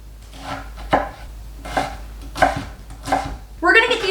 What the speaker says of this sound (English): I'm going to take an onion and I'm going to cut it very, very finely